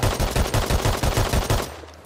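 A new automatic weapon in the survival game Rust fires one uncontrolled spray, a rapid, loud, evenly spaced string of about a dozen close shots that stops abruptly, leaving a short fading tail.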